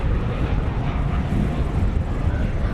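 A heavy American Airlines jet at Dallas/Fort Worth airport gives a steady, loud broadband engine roar with a deep low rumble, constant throughout with light wind buffeting.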